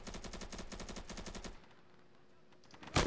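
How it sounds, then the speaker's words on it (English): Rapid automatic gunfire from the video game Insurgency, a fast stuttering burst for about a second and a half, then near silence before one loud sharp shot closes the moment. "Who's shooting at me"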